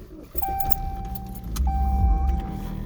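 A car driving along the road, its steady engine and road rumble building a little louder partway through, with keys jangling on and off close by and no talk.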